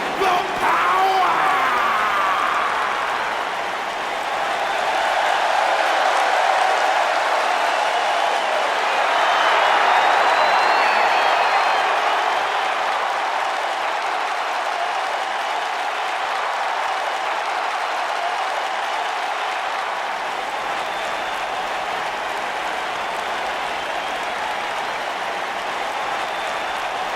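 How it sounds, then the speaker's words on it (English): Crowd at a WWE SummerSlam 2019 wrestling arena breaks into loud, sustained applause mixed with cheering that rolls on steadily for nearly half a minute. "Clap for your longest reigning tag champs and feel the power!"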